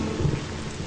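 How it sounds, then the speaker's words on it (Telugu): Steady rain pours with a low rumble of thunder beneath it, a dense, continuous wash of sound that stays fairly even and moderately loud throughout, with no voices. "వర్షం,"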